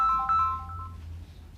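A mobile phone left switched on rings during a book presentation talk, a clear electronic ringtone of short melodic beeps that fades out under low room hum, with no speech over it.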